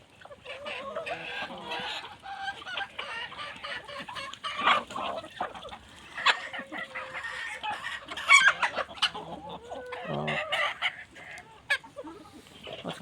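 Bantam and other backyard hens cluck and chatter together on a small farm, with a rooster crowing once partway through. The birds are fairly close and keep up a steady, busy racket.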